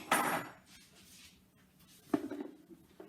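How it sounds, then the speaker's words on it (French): Thermomix Varoma steaming basket and lid being set in place: a few light clattering knocks of plastic and metal, one near the start and another sharper clack later, separated by quiet. "Par-dessus, je mets mon panier, mon couvercle."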